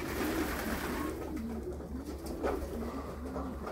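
Racing pigeons coo at their loft after returning from a 203 km race, with soft, repeated low coos rising and falling over a steady background rumble.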